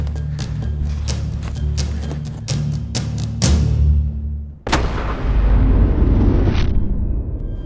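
A single loud gunshot fired at an animal during a hunt cracks out midway and rolls away in a long fading echo, after a run of faint rhythmic ticking.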